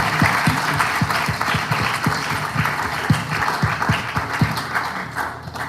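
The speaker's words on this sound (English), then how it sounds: "give a big applause to His Grace, Mr. Krishna Prabhu and Prabhu Prabhu" Audience applause at a Hare Krishna gathering honoring guest speakers, steady dense clapping throughout with some sharper individual claps standing out near the front, loud and continuous with no voices.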